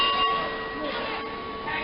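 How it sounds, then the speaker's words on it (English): A ring bell clangs with sustained metallic tones at a live wrestling event, ringing steadily over crowd noise and arena commotion. "The bell ringing again."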